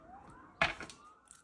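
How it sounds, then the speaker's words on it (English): Emergency vehicle sirens sound at a distance as a thin wailing tone that rises slowly, with a brief louder burst of other noise partway through. No one speaks. "Listen to those sirens, my goodness."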